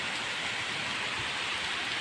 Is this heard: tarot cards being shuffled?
no